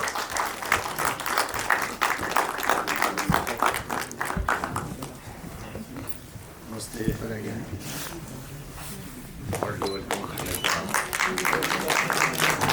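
Audience applause at an international film festival in Nepal, clapping that swells, dips in the middle and rises again, with voices mixed in over it.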